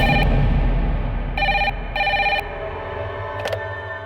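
A telephone rings with an incoming call in a crime investigation drama, giving repeated electronic trill bursts with short gaps between them, loud and close over a low background hum.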